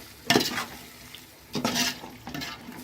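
Chicken biryani being stirred in a pan gives two or three separate scraping, clattering bursts with a faint sizzle between them, moderately close with no talking.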